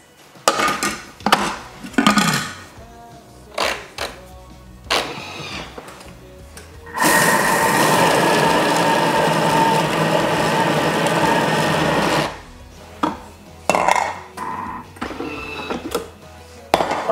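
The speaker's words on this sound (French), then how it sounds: "Donc j'en donne un petit coup de mixeur." A food processor coarsely blends a salmon and dill mixture in a loud, steady burst of about five seconds, framed by clattering bowl and utensil knocks before and after.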